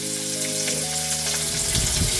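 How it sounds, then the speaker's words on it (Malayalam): Fish frying in a pan in a home kitchen, a loud, steady sizzle and crackle filling the whole stretch with no voices, while a faint tonal hum fades out partway through. "ചെറുതായിട്ടൊരു മീൻ വറുക്കാൻ വിചാരിച്ചു"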